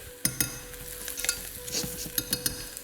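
Onion frying in a pan for a Goan fish curry with coconut milk, a steady low sizzle broken by several sharp scraping stirs and clinks of the spoon, close and alone without talk.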